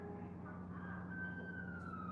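An emergency vehicle siren wails outdoors, faint and distant, its tone sliding slowly downward over a steady low background hum.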